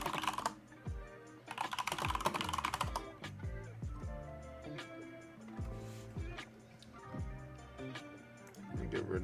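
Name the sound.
fast typing on computer keyboard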